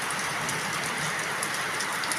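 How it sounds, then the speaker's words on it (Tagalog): Steady rain falls on a rainy afternoon, a dense, even hiss of drops on surfaces that carries on without a break and with no voices. "Maulan na hapon po"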